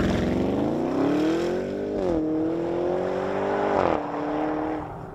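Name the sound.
Porsche Cayenne Turbo S E-Hybrid twin-turbo V8 accelerating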